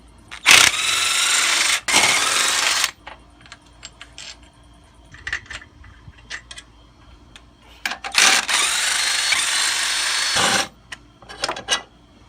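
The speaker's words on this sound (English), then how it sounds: "We're gonna go ahead and remove the bolts and drop the transmission straight down" Bolts coming out of a 96-00 Honda Civic transmission, two long bursts of a power tool whirring close by, separated by quiet stretches of small clicks and metallic taps.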